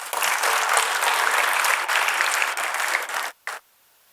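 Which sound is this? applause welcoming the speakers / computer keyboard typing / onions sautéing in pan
applause welcoming the speakers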